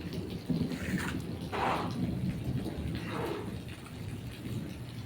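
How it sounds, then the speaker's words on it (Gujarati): Steady rain pours throughout while low thunder rumbles and swells a few times in the background. "વરસાદ ચાલુ છે"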